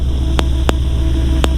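Two Sky Demon light aircraft engines run at a steady idle, giving a continuous droning hum with a few sharp clicks on top.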